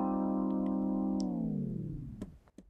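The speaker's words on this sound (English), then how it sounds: "Notice how the sound fades out and slows down at the same time." A sustained synthetic tone in Logic Pro, given a slow-down fade on its audio region, holds steady, then sags downward in pitch while growing quieter, ending in a few faint clicks.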